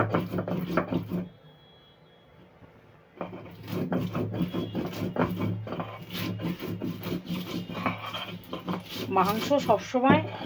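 Cumin, coriander, dried chilli, ginger and garlic are ground on a stone slab with a grinding stone, heard close as repeated rhythmic rubbing and scraping strokes after a brief pause, with a voice speaking near the end.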